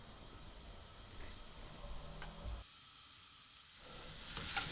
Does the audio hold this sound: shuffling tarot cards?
no